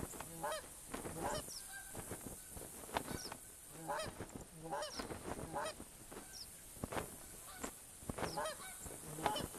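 A big flock of geese flies in and calls steadily, many overlapping honks at a moderate distance forming a busy chorus that never breaks. Nobody speaks over the calling.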